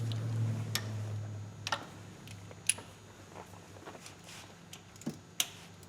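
A small ratchet turning a spark plug down on a 2004 Chevy Tahoe 5.3 V8, giving a few sparse, sharp clicks spaced irregularly over a low steady background hum.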